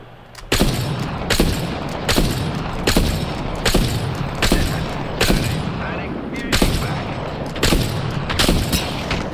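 Repeated gunshots in Apex Legends deathmatch play, loud sharp cracks fired at a steady, roughly evenly spaced pace, each with a short echoing tail, close and dominant over a low background.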